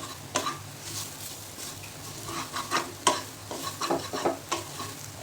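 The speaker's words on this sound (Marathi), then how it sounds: "त्याला छान पीठ भाजेपर्यंत हलवत राहायचं." Gram flour roasting in oil in a pan while being stirred, giving a steady soft sizzle broken by scraping spoon strokes and light clinks against the metal, close up with no talk.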